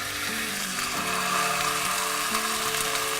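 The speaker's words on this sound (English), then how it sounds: "So you want to sear them on all sides." Lamb shanks searing in hot olive oil in a pan give a loud, steady sizzle that runs without a break, with no voices over it.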